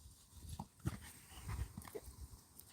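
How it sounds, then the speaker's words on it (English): Dogs playing roughly, with scuffling, panting and soft grunts, a few yelps and whimpers in a busy, close, moderately loud tangle of sound. "It's full on how dogs play, isn't it?"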